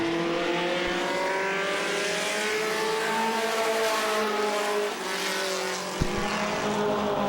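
Modified race cars of the True Value Modified Racing Series roar around Star Speedway, a continuous loud chorus of engines rising in pitch, with a couple of brief sharp knocks.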